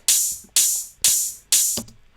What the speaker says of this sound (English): So I found this open hat,